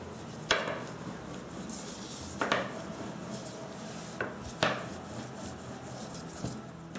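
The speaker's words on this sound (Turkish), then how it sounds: "Bezelerimizi bir oklava yardımıyla tatlı tava büyüklüğünde açacağız." A wooden rolling pin rolls out dough, making soft scraping and rubbing strokes punctuated by several light knocks at irregular intervals, close and quiet.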